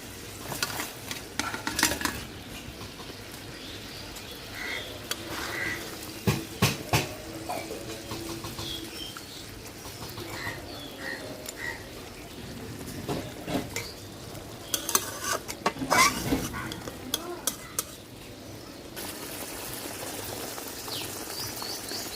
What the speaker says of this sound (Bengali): ঝোল ফুইটা গেছে, এখন এই যে ভাজা মাছ ঝোলে দিয়ে দিব।